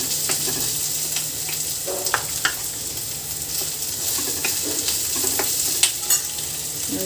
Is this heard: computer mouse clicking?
no